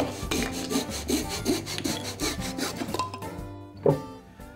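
Wood door shims being trimmed off during an entry door install, a rapid run of close, rhythmic rasping strokes like a handsaw cutting thin wood, ending with a last scrape and a soft knock.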